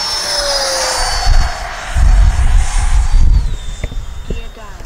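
Freewing F-22 90mm ducted-fan RC jet at full speed, a steady loud whooshing whine with a shifting tone as it passes, over constant rumbling wind noise.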